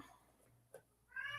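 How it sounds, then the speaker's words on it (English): A house cat meows in short calls near the microphone, a brief mid-clip cry followed by a louder, drawn-out meow at the end, over quiet room background. "Now that one is my cat."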